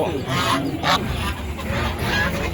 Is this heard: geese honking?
yes